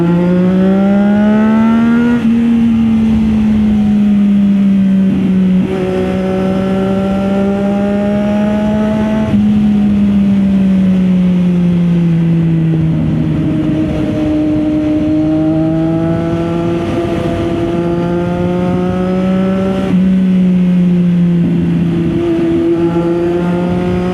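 A Triumph Daytona 660 motorcycle is ridden with its exhaust loud and close, the engine note rising and falling through repeated rev climbs and gear changes over a long stretch of continuous riding.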